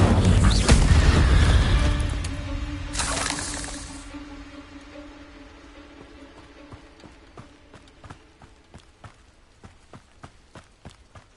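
An Incendio fire spell cast in a video game bursts out as a loud roaring blast with a second whooshing surge, fading away into a quiet run of even, rhythmic footsteps.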